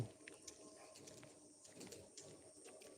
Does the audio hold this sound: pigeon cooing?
yes